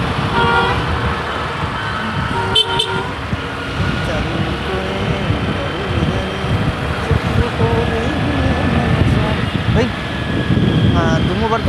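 A bus passes in busy street traffic in Kondamallepally, with short horn toots and a continuous roar of engines and road noise, and voices faintly in the background.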